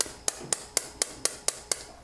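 A Foredom hammer handpiece on a flex shaft gives eight sharp, evenly spaced clicks at about four per second, close and clear, with no voices.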